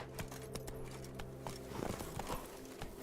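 Roach the horse trotting in the game The Witcher 3, a quiet, regular clip-clop of hooves close by over a low steady background hum, with no talking.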